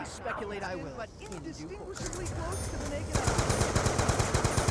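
Rapid automatic gunfire from a weapon in Call of Duty Zombies on the Die Rise map, loud and rhythmic in the second half, following a stretch of game sounds and voices.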